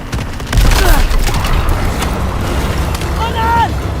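Machine gun fire in the World War II shooter game Call of Duty WW2, sustained rapid bursts over a rumbling battlefield with shouting voices cutting in.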